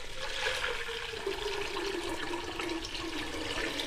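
Water poured from a pitcher into a cooking pot for soup, a steady close splashing and gurgling stream that runs continuously without a break.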